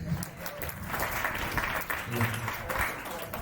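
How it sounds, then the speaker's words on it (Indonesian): A small audience at an Indonesian student organization introduction claps for two division members, a short burst of steady, moderately loud applause with some murmuring mixed in. "Tepuk tangan dong untuk mereka berdua."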